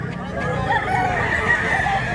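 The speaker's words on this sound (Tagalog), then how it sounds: "Ang tag manok oh." A stag gamecock at a Mantalungon, Cebu poultry market gives a drawn-out crow over a crowded, murmuring background, close and moderately loud.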